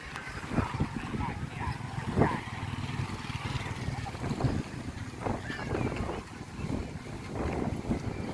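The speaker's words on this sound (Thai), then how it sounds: "ลมแรงมากเลย" Strong wind buffets the microphone at Red Bridge, a bird-watching spot, giving a steady broadband roar with gusty swells throughout, while someone talks over it.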